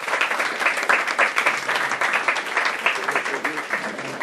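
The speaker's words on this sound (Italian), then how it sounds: "per il quale vorrei un grande applauso" An audience applauds an author at an Italian poetry book presentation, a dense, steady wash of many hands clapping close and loud for the whole stretch, with no voice heard over it.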